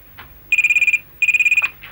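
A telephone rings in two loud, close trilling bursts with a brief pause between them, in a domestic scene from a Hindi TV serial; no one speaks.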